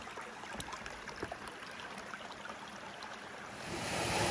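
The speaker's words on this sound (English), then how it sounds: "The river's starting to narrow into a bit of a gorge. These nice little cascades running through." Mountain river cascades rush steadily through a narrowing gorge near Cathedral Rock on Mt Wellington, a close, continuous broadband roar of tumbling water that swells slightly louder at the end.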